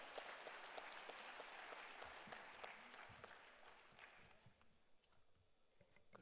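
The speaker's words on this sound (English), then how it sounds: "Let's have a big round of applause for him." An audience at a regional conference applauds, a broad, steady wash of many hands clapping that slowly thins and fades over several seconds. It is heard from a distance in a large hall, with no speech over it.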